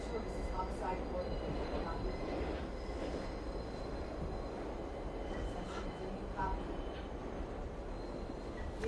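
A 6 subway train rumbles and rolls into Grand Central, with a steady heavy roar and faint metallic squeals, while muffled voices sound in the background.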